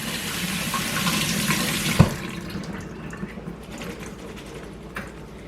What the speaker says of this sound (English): I'm just running some cold water over it because I want that to stop cooking now.